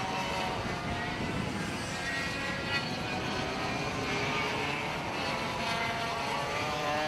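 Historic racing kart engines at the Shenington Kart Racing Club SuperPrix, a continuous buzzing drone of several small two-stroke engines running together at a distance, steady in level.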